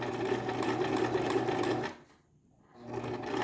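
Sewing machine stitching a zipper along the presser foot, a steady fast whir that stops briefly and then resumes, close and fairly quiet.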